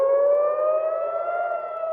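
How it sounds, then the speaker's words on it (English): A steady wailing air raid siren in Jerusalem holding a sustained tone with a slight rise in pitch, heard alone and fairly loud. "Air raid sirens in Jerusalem this morning"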